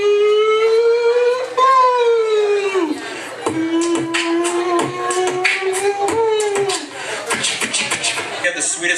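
A voice imitates a wailing police car siren, rising and falling in loud, steady sweeps for the whole stretch, with crowd chuckles and laughter underneath.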